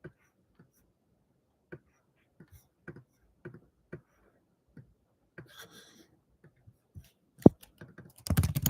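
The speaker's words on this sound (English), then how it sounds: "And we type something here." Someone typing code on a computer keyboard, with sparse, irregular key taps spread across the stretch and a short burst of faster clicking at the end, close and quiet with no talking.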